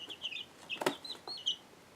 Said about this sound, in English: Quit pecking at my fingernail.